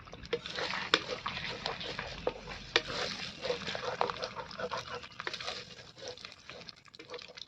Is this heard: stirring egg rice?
yes